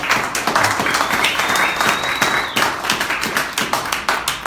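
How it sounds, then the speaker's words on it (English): Audience clapping at a presentation as a couple is introduced, a moderate crowd of hands with distinct individual claps, fairly close and steady, with a faint whistle-like tone briefly above. "We have a round of applause."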